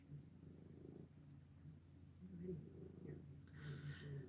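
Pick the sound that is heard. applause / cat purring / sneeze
cat purring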